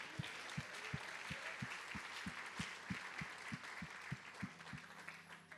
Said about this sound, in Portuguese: Vamos aplaudi-lo em adoração?